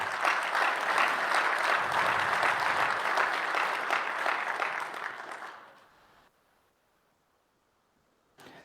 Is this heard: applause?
yes